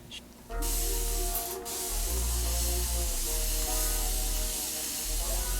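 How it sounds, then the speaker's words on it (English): Repeated hissing bursts of a spray bottle misting water onto hair, several squirts in quick succession over a soft background hum. "I have to spray a lot of water"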